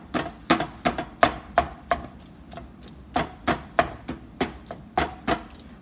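A meat chopper tool slams repeatedly into ground beef in a pan, a quick series of sharp, loud impacts in an uneven rhythm over a soft background.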